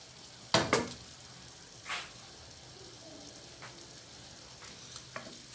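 Onion and meat frying in a pot for a tajine, a faint sizzle under a few sharp clinks and scrapes of a utensil against the pot.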